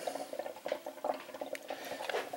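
Water gurgles and patters through a refrigerator ice maker supply hose in a short, quiet burst of uneven bubbling.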